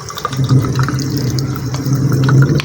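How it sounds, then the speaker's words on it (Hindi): Water streams out of a Suzuki Ravi or Bolan brake line during a master cylinder change, a steady close gurgling flow with a loud hiss and splashing that continues throughout without talk. "ये देखें यहाँ से पानी आ रहा है"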